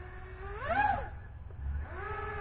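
A Diatone GT M530 quadcopter's motors whine upward in pitch as the throttle is nudged, peaking briefly, then dropping and rising again, with steady low rumble underneath.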